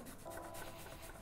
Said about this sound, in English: I just get a little grater and grate, grate, grate, and shake, shake, shake as you go